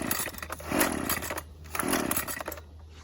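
A Husqvarna brush cutter's small two-stroke engine catches and roars loudly up close, revving in two bursts with a brief dip between them, with no talking.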